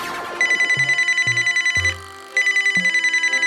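An old-style telephone bell rings loudly in rapid trills, pauses briefly, then rings again, with a few low descending tones beneath.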